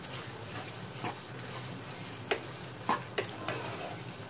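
Potato halwa stirred and mixed in a pan with ghee and cardamom powder, a continuous soft sizzle under several sharp scraping strokes of a spoon against the pan, close up.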